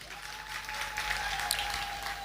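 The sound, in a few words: audience applause at a poetry recital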